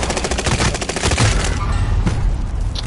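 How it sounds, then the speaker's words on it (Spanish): In a video game, rapid gunfire is aimed at the player, a dense loud fusillade of rattling shots close by that thins out toward the end. "te están disparando a más"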